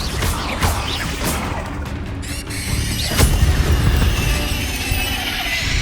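A Confringo fire spell blasting in Hogwarts Legacy, a loud booming burst with crashing, whooshing impacts and a sharp hit near the three-second mark over dense continuous game noise.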